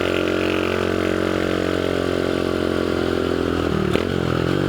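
A restored Dax 125cc Toro motorcycle runs close by with a steady, buzzy engine drone, holding an even pitch and briefly blipping near the end.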